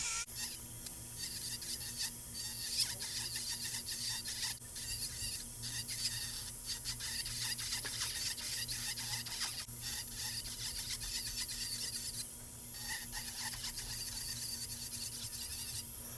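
A nail drill whirs steadily while filing acrylic nails, a continuous high rasping buzz with brief dips as the bit lifts off.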